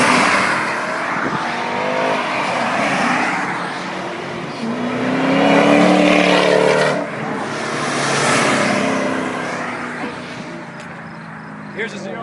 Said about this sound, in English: Here's a ZR1 right here.